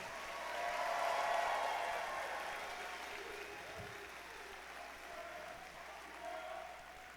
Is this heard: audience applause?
yes